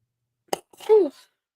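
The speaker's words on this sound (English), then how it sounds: "I'm going to sneeze, excuse me." A woman gives a single sharp, close sneeze, followed right after by a short voiced exhale or groan.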